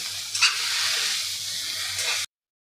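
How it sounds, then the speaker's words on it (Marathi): Bitter gourd pieces are sautéed in masala, giving a close, steady hiss of frying with a few stirring scrapes, ending abruptly in silence. "ह्या सगळ्या आपल्याला या मसाल्यामध्ये परतून घ्यायच्या आहे"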